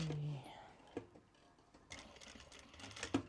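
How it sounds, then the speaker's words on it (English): A sewing machine runs a quick basting seam with faint, short bursts of stitching, mostly near the end, in a quiet room where a voice speaks briefly. "we will sew it in quick like this"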